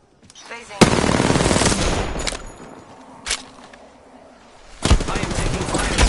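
Gunfire in the battle royale game Apex Legends: rapid automatic bursts come in two long volleys with a single shot between them, loud and close, with brief game voice lines heard around the shooting.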